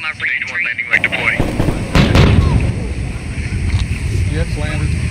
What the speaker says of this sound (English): We're hearing that sonic boom of re-entry.